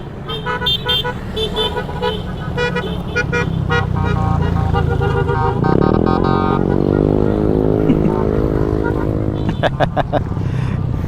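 Traffic noise on a road in Dingalan, Aurora, with several car horns tooting, a long sustained honk in the middle and short bursts near the end, with voices and laughter around.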